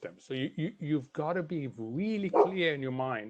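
A dog barks and yips in the background during an online panel talk on developing economies, faint and partly buried under a man's steady speech.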